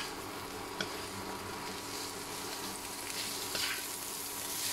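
Chopped cabbage fries in a pan for a vegetarian spaghetti sauce, giving a continuous faint sizzle with a few small pops and stirring scrapes.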